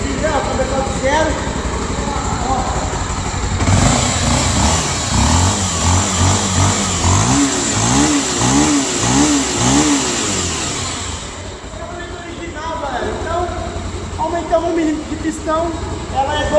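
A Honda XRE 300 motorcycle engine, bored to 299 cc with an 80 mm piston and 296° cam, runs loudly and revs up and down in rising, falling sweeps, with people talking over it.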